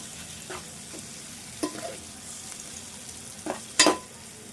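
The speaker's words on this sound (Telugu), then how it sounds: "ఇప్పుడు ఎగ్స్ వేసుకుందాము. కొత్తిమీర తర్వాత వేద్దామని పక్కకు పెట్టిన. ఇది కొద్దిసేపు ఇలా వేపుకుందాము." Eggs fry in a pan for Telangana egg soup with a steady, moderate sizzle, broken by a few scraping stirs and one sharp metallic clink near the end, nearby and without any speech.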